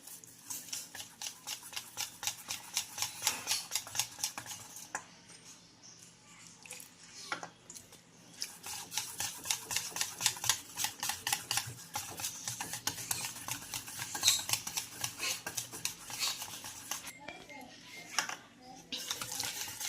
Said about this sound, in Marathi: तर बॅटर आपल्याला छानपैकी एकाच डायरेक्शनमध्ये फेटून असं बनवायचं आहे